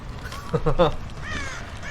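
Crows caw in the Dead by Daylight video game, a quick cluster of three harsh calls with a fainter call after them, mixed with other game sounds.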